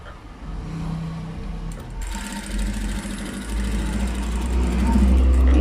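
A sewing machine stitches a blouse, its steady mechanical whir building and growing louder after a short start, running continuously close by with no talking over it.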